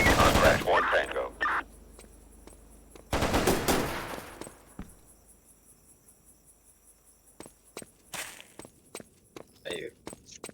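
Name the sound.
gunfire from enemies in a video game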